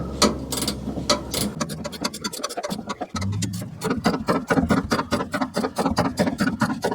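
A ratchet wrench clicks rapidly while backing off the rear shock nut on a first-generation Toyota Tundra, close and crisp, with a brief pause before the ratcheting resumes in a fast, steady rhythm.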